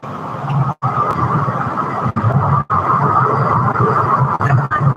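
Passing cars and roadway traffic noise, a continuous loud rushing hum with brief dips between vehicles, close by.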